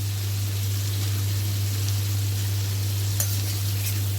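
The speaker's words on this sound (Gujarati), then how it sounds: "પનીર આપણા સંતળાઈ ગયા છે" Paneer cubes sizzle steadily in a hot pan over a full flame, a continuous bright frying hiss with a faint low hum underneath and a couple of small clinks near the end.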